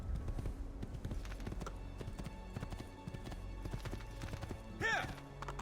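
Hooves clip-clop steadily in a video game, an Assassin's Creed II horse ride with a busy music and effects bed, close and fairly loud, and a brief whinny-like rising call near the end.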